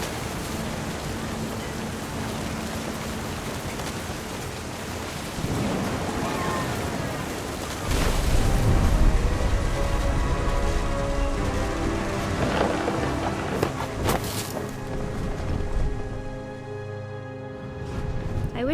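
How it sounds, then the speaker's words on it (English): A thunderstorm from the video game What Remains of Edith Finch: steady, dense rain hisses throughout while deep thunder rolls in and swells louder toward the middle, close and heavy, with a faint tonal layer underneath. "thunder sounded much too close and full of angry power"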